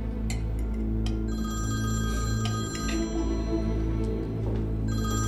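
A telephone rings continuously indoors in an Urdu-dubbed drama scene, its tone sustained over a low hum, with no talk over it.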